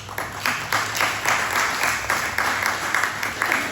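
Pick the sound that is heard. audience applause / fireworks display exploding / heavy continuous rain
audience applause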